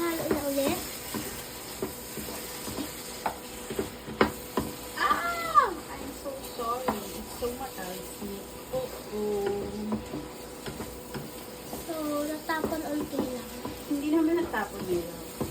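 Lasagna sauce stirred and sizzling in a pan, a soft continuous fry with scraping stirs, while people chat nearby.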